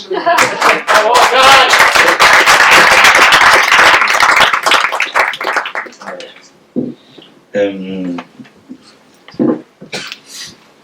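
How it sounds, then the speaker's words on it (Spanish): A panel audience at an event on collective action and democracy breaks into dense, loud clapping that lasts several seconds and then fades. A person then starts speaking over the scattered last claps. "Si aplaudan, aplaudan a Óscar más bien."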